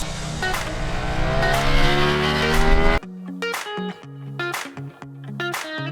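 A 2025 Ducati Streetfighter V4S pulls hard in high third gear on a track with slick tyres. The loud engine revs rise steadily and cut abruptly midway, then come back in short, choppy surges.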